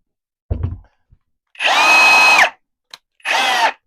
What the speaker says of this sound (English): Now the thing about these type of drills is that this got some really heavy duty gears in here.